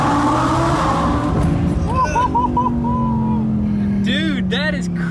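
A 1200 horsepower twin-turbo Audi R8 accelerates hard, its engine note climbing steadily in a loud, continuous rising whine, with excited voices talking over it.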